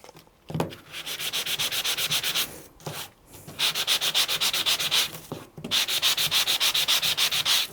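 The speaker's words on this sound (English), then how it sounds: "And I sand my element." Sandpaper rubbed briskly over a die-cut element of sandable colour-core cardstock, in three bursts of rapid, even back-and-forth scratching separated by short pauses.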